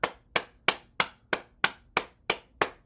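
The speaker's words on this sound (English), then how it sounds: "So we clap" One person claps nine times at a steady, even pace during a lung and heart activation exercise. Each clap is sharp and close, followed by a short decay in an otherwise quiet room.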